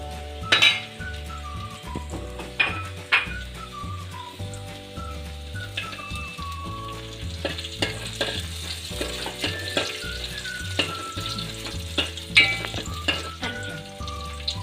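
Cashews and raisins fry in a pan, with a steady sizzle broken by repeated clinks and scrapes of a spoon stirring against the metal.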